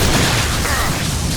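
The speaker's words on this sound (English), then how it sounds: "Watch out, flashbang!" Flashbang grenade going off in Mass Effect 2 combat: a loud, broad, rumbling blast with noisy wash filling the short moment, with a voice briefly heard in the mix.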